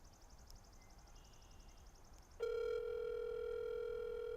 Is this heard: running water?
no